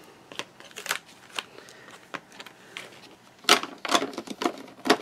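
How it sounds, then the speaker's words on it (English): Cardstock being trimmed down to size for a craft project, with a series of short, crisp rasping cuts and paper handling noises, sparse early on and then denser bursts toward the end, close and fairly quiet. "So for this one, you have to cut down your cardstock."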